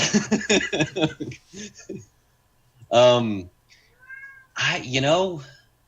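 A cat meows close by in a run of short chirping calls, followed by a couple of longer, drawn-out meows with quiet gaps between them.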